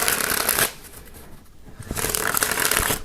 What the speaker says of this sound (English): having a really nice broken in deck is so good to like do cardistry with.